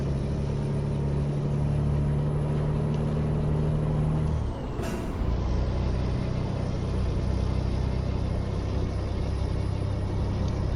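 Scania truck in Euro Truck Simulator 2 with a loud hiss of air brake release midway, then the diesel engine rumbles steadily as it pulls away, constant low drone with no voices.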